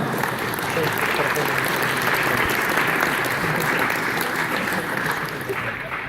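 A packed hall applauds a junior karate medallist at a Kielce sports awards ceremony, sustained, even clapping from many hands that tapers slightly at the end.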